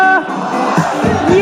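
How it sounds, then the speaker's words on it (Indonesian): An audience at a sales strategy seminar cheers and whoops loudly in a brief, energetic burst, with shouting voices mixed into the crowd noise. "Kasih tepuk tangan, kasih suara yang meriah, Bapak Ibu."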